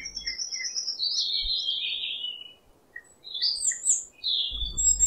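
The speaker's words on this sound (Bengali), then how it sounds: "পাখির ডাক তো নিরবচ্ছিন্নভাবে শুনেছি" Birds in the Kumarakom bird sanctuary forest, on the shore of Vembanad Lake, give several clear, high whistled calls and chirps, fairly near, over an otherwise quiet background.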